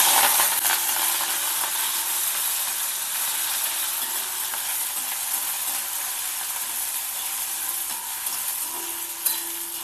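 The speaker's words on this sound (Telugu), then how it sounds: "ఇప్పుడు ఆనియన్స్ వేస్తున్నాను." Onions sizzling with garlic in a hot pan, a loud, steady frying hiss that runs unbroken throughout with faint stirring scrapes and no talk.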